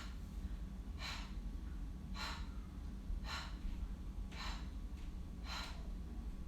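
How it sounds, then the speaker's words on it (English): Light, rhythmic breathing practised for labour repeats five times at an even pace of about one breath per second, soft and close over a steady background rumble. "practice this light breath and see if you can get in the same rhythm together"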